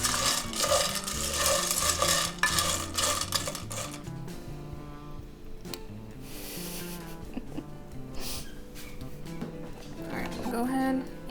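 Dry pasta shells for Mexican sopa de conchitas are poured into a pot, producing a bright rattling clatter of small hard pieces, with a voice talking partway through.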